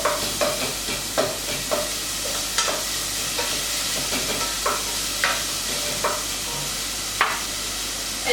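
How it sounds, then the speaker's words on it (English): Onion sautéing in a pan with chili and garlic for shakshuka, a steady close sizzle broken by regular scraping stirs every second or so, with no talk. "First saute your onion nice and see-through"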